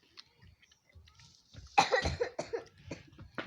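A person coughs sharply several times in quick succession, loud and close, with faint murmurs and rustling before the bursts.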